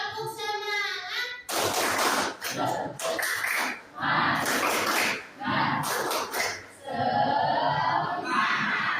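A school class performs a rhythmic spirit clap together, loud bursts of patterned clapping and shouting separated by brief pauses, after a single voice speaks at the start.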